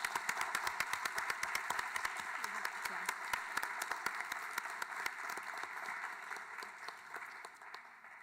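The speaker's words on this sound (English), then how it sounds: "let's give another round of applause to our incredible panelists" Audience members at an evening neuroscience panel event applaud the panelists, scattered individual claps standing out sharply over a thinner, softer background of clapping that gradually fades.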